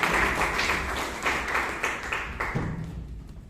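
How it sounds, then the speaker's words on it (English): An audience at a Bangalore Toastmasters meeting applauds for the session's Toastmaster, a short burst of clapping from a small group, fairly close, that thins out and fades by the end. "Please give a round of applause to Toastmaster."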